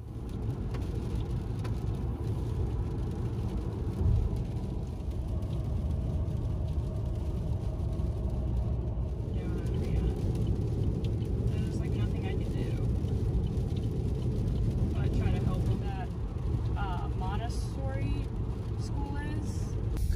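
Steady road rumble and tire noise from a 2020 Chevrolet Bolt EV electric car cruising on a highway, a continuous loud drone through the whole stretch with faint voices in the cabin.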